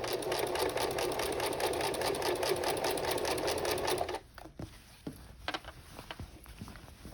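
A sewing machine runs a rapid, steady stitch over a tote bag handle for about four seconds, then stops, followed by scattered handling knocks and rustles as the fabric is moved.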